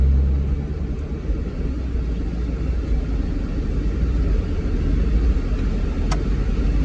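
A Foxbody Mustang rumbles past on a quarter-mile drag strip, a loud, steady low engine roar heard from outside the car with no talking.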